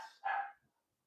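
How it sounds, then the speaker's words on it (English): A dog gives a single sharp bark indoors, close and loud, preceded by a softer whine and then fading to silence. "That was my dogs barking."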